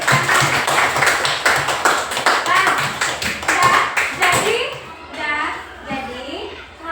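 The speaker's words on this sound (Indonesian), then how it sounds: "Bagus, tepuk tangan." A classroom of children claps together in quick, dense rhythmic hand claps for several seconds, loud and close, before the clapping fades and a teacher's voice takes over.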